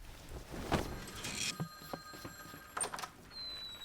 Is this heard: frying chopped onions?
no